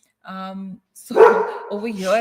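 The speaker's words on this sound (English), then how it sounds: "That's my dog." A dog barks and yips indoors in a few short loud bursts close by, mixed with and partly overlapping someone speaking.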